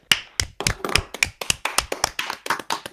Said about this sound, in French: ça mérite quelques faut applaudissements aussi